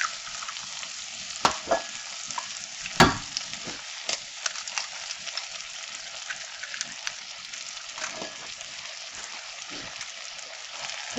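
Eggs frying in a hot pan, a steady close crackling sizzle with scattered sharp pops and spatters throughout.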